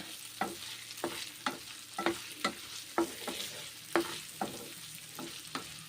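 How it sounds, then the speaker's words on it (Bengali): Finely chopped coconut with salt fries in mustard oil. A soft sizzle runs underneath while a spatula scrapes the pan in regular strokes about every half second, close and clear with no voices. "সর্ষের তেল লবণ আর নারকলগুলো ছোট সাইজ করে কুচিয়ে নিয়ে ভেজে নিচ্ছি নারকল ভাজা"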